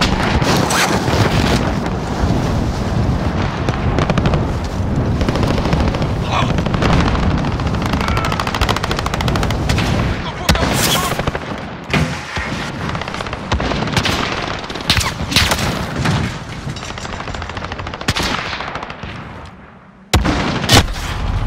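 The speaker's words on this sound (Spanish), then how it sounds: "Disparando por aquí." Dense gunfire from the video game Call of Duty: Modern Warfare: rapid automatic bursts and booming shots, loud and continuous, with a brief lull near the end.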